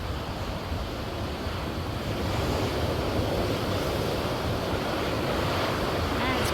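Strong wind and crashing waves on Lake Superior in winter, a loud continuous roar of surf and gusting wind buffeting the microphone without a break.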